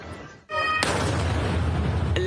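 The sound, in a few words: violent explosion in amateur news footage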